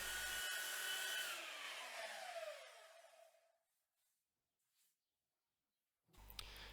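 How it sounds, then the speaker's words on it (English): A belt sander grinds epoxy overpour off a wooden tabletop, a loud steady whir that winds down and trails off to near silence, then a brief burst of noise returns at the end. "I'm going to be using my belt sander again to remove all the overpour"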